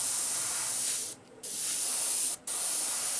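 Paint hisses from an airbrush whose O-rings may be worn, a close, steady spray broken by two brief pauses as the trigger is released and pressed again.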